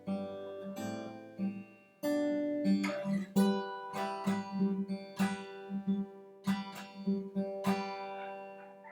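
A plucked acoustic guitar picks out the repeating intro pattern of a song, ringing notes, steady and close, with a brief pause near the start and no voices.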